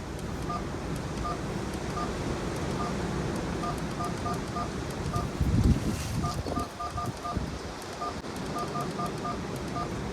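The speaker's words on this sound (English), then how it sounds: "When you press each button, it sounds like the old telephone tone." Button presses on a dual-lens articulating borescope snake camera give short, evenly spaced beeps like old telephone keypad tones, repeated in quick runs over steady outdoor wind and background hiss.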